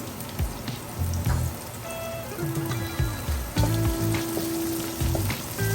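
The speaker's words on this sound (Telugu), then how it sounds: "వేసి దీన్ని కూడా బాగా పచ్చివాసన పోయే వరకు వేయించుకుంటాం" Ginger garlic paste frying in a pan while jackfruit biryani is being made, a steady crackling sizzle throughout with a few soft knocks and clinks of a spoon against the pan, close and moderately loud.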